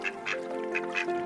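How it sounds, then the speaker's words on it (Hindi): Birds settling onto water in a cartoon fairy tale give several short, bright quacking calls in quick bursts, duck-like and close, with a soft steady tone underneath and no talking. "बहुत सारे खूबसूरत परिंदे आकर पानी में उतरे थे"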